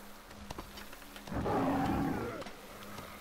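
A lion-like creature in the video game Metro Exodus lets out a loud, rough roar lasting about a second, rising over quieter game background sounds and fading again.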